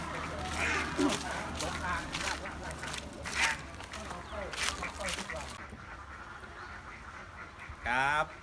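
Laying ducks quack in a duck house at a school farm, a busy flock calling in repeated bursts at moderate distance, with a voice talking over them and a louder close call near the end.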